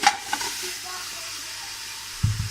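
Beef pieces sizzling as they hit a hot pressure cooker, a steady low frying hiss throughout with a couple of faint stirring clinks early and a soft thump of more meat going in near the end.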